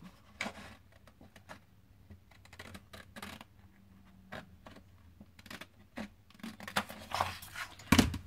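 Scissors snipping through paper during a shabby-chic paper rosette craft, a quiet series of close, irregular crisp cuts and rustles with a louder snip near the end.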